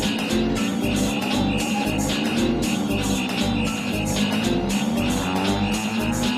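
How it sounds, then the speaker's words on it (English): A turbocharged, alcohol-injected rotary-engine Toyota Starlet drag races at a night event, its engine roaring loud and continuous with rapid revving pulses and tire noise throughout. "this is a Toyota Starlet with a rotary engine, alcohol injected with a turbo"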